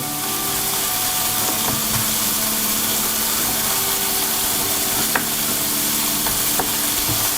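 Lardons browning in a pan for a tomato, fig and grape salad, giving a steady close sizzle with occasional soft stirring clicks throughout, no voices.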